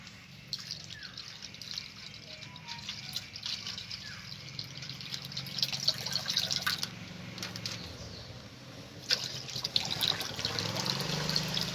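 Milk, one kilo from two packets, is poured into a pan for rasgulla, a steady close liquid splashing and trickling with small drips that swell slightly in places, heard alone without talk.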